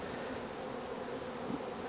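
Honeybees drone with a dense, continuous buzz around beehive colonies in an apiary used for queen breeding. The sound is close and steady, with no talking.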